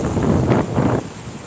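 Broad rushing surf swells and washes twice on the beach at Shankarpur, with steady wind noise across the microphone throughout; the water sound eases off near the end.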